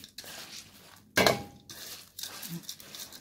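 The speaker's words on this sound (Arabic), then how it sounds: "نقلب العدس على الرز، ده شكله جميل ازاي" Lentils are turned out of a metal pot onto rice for a homestyle Egyptian dish, giving one loud clattering clink of the pot, with quieter kitchen knocks and scrapes before and after.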